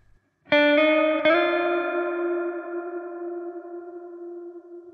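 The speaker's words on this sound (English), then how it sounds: "You can hear that kind of warbling effect, which is the modulation" Two plucked guitar notes ring out through a Source Audio Ventris reverb pedal, the long tail shimmering with a slow warbling modulation wobble as it fades.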